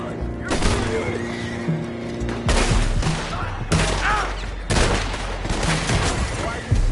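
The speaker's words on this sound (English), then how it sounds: "Why are you shooting?" Video game gunfire, with bursts of rapid shots and loud blasts crackling over a steady rumble, close and intense, alongside shouting game voices.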